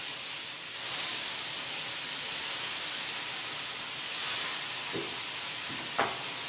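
Shrimp and vegetables sizzle in a hot pan over medium-high heat, a continuous close hissing fry with a couple of brief knocks near the end.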